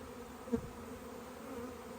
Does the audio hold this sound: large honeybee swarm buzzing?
yes